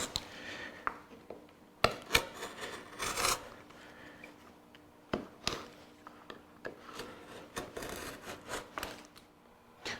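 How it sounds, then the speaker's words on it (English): A knife is drawn across wood to cut a crosscut trench, producing repeated close scraping and rasping strokes with sharp irregular bursts. "I can actually cut a trench across the wood, which gives us the start of our crosscut"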